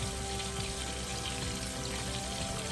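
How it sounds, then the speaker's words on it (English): Continuous crackling sizzle of whiting fish frying in hot oil in a pan, steady and fairly loud throughout, with no speech. "I went ahead and turned it. Frying up really good."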